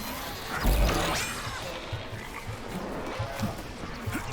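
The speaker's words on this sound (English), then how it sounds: "I hear little frogs." Little frogs croak in a game world of Atomic Heart, a steady chorus of calls over ambient outdoor noise with a louder thump near the start, no talking.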